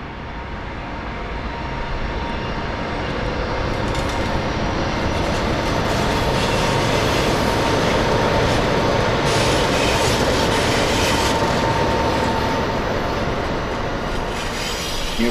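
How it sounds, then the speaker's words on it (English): Amtrak test train hauled by Siemens Charger locomotives climbing the grade of Raton Pass near the ghost town of Morley, a steady loud rumble of engines and rolling wheels sustained throughout with no talk. "The distinctive chug of the P-42s is noticeably absent as the chargers attack the grade"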